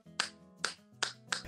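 Four crisp finger snaps in an even rhythm, close and fairly quiet, given by a small audience in place of applause so as to make little noise while someone sang.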